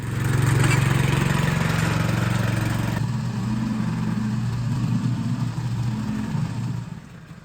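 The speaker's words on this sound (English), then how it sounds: "I use a rotavator just to plough it basically, turn up the soil so it's ready for the grass seed" A petrol rotavator tills garden soil to prepare it for grass seed, its engine droning loudly and steadily nearby, dropping in pitch partway through as it works, and tailing off at the end.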